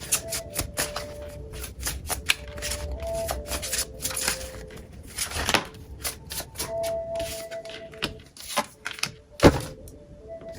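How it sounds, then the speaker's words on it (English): Tarot cards are shuffled and drawn by hand, with a steady stream of close riffling, flicking and slapping cards and some softer handling noises throughout. "Spirit, can I get 2 cards for Lily?"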